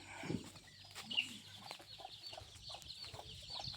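About seventy chicks and mother hens in a farm cage cluck and peep in scattered bursts, soft and close, over a low background hum with no voices.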